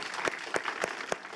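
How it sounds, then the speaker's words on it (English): Applause from an audience at a debate on gender equality, a faint, distant crowd clapping with a few louder individual claps standing out at a steady rhythm. "First, a round of applause."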